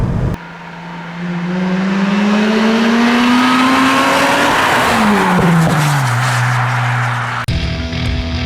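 A Rover V8 car engine approaches from a distance, swelling into a loud roar as it passes close by, its pitch rising and then falling away before the sound cuts off abruptly.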